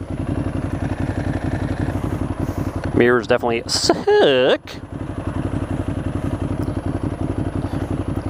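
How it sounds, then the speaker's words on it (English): A stock Ducati Hypermotard's exhaust drones in a steady, loud low rumble while the bike is ridden, continuing under a rider's brief spoken remark midway. "Exhaust doesn't sound too bad for a stock bike, I guess."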